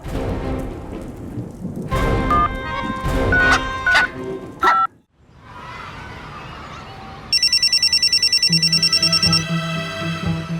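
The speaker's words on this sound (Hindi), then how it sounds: "अरे ये किसका फोन आया?" A telephone rings in a busy room, its trilling electronic ring entering partway through and repeating steadily over scattered chimes and a muffled rumble.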